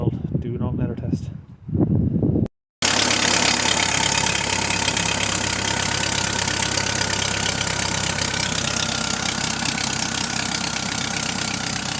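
An Audi TT 1.8T engine starts up and idles steadily after an alternator replacement. It runs loud and close for most of the clip, after a short stretch of talking at the start.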